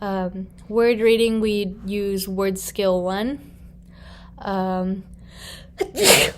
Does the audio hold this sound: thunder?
no